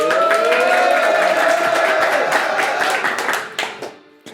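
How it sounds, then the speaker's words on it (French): A studio audience claps and cheers loudly to welcome a new guest named Bruno, dense applause holding steady before thinning and tapering off toward the end. "je vous prie d'accueillir, sous un tonnerre d'applaudissements, Bruno!"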